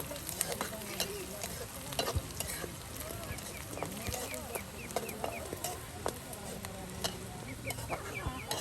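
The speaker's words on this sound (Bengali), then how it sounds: "কত সুন্দর করে কিন্তু মরিচ পেঁয়াজ সব কিছু ভেজে নেওয়া হলো" Chillies and onions fry in oil in a riverside village kitchen, a faint continuous sizzle with stirring, while people talk and chickens cluck in the background.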